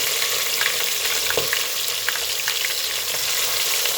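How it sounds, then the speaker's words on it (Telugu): Chicken pieces frying in hot oil with cinnamon, cardamom and cloves for pepper chicken: a loud, steady, close sizzle throughout, with a few faint scraping clicks. "ఇప్పుడు ఈ నూనెలో చికెన్ పీసెస్ వేసుకున్నానమ్మా."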